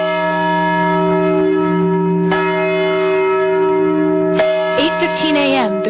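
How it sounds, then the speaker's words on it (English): A church bell rings at First Congregational Church on Main Street in Binghamton to open a Hiroshima remembrance, a sustained resonant toll with strong humming overtones, struck again midway and near the end. "the ringing of a bell started the remembrance at First Congressional Church on Main Street in Binghamton"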